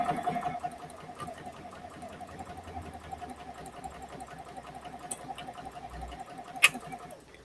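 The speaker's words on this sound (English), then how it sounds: "I'm gonna go ahead and sew the next, so we'll keep going" A sewing machine stitching fabric runs in a quiet, steady rhythmic whir, faint and close, with a sharp click near the end and no talk.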